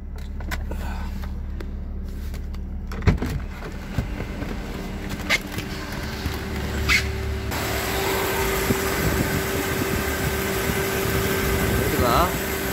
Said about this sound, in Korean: 엔진 시동 걸렸고 아주 문제 없죠?